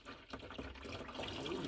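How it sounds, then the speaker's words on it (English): Water drains from the oil pan of a Buick 350 engine in a steady splashing, trickling pour, with people talking faintly nearby. "It's straight water."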